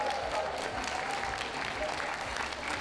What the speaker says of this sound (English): And you can applaud and encourage as much as you like.